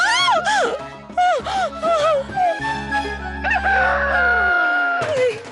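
A rooster sound effect from a Telugu TV serial crows loudly several times in close succession, bright rising-and-falling calls over a sustained low musical drone.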